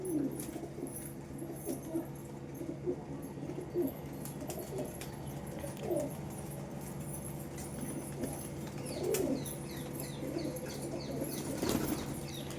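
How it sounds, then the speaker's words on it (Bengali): Pigeons of Chennai and Andhra lines coo softly and flap their wings in bursts, with a steady low hum behind them and no talk. "আমার কাছে সব চেন্নাই লাইন আর অন্ধ্রের লাইনের পায়রা আছে"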